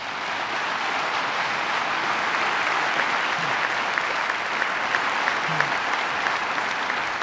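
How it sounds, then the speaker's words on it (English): Sustained applause from a crowd, even and continuous, clapping throughout at a fairly close distance. "So let's give them all a round of applause."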